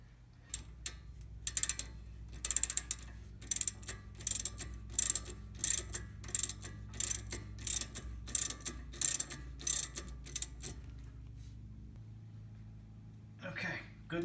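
Ratchet clicking in quick bursts while fasteners on a Honda Odyssey strut assembly are snugged down, close and loud over a low hum, pausing between strokes and stopping near the end.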